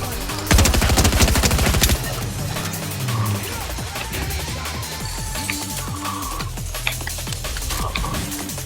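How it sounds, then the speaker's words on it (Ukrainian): Gunfire in Fortnite (Chapter 4, Season 2): a rapid burst of automatic shots up front, then scattered lighter shots and game sounds continuing amid the action. "Я стріляю."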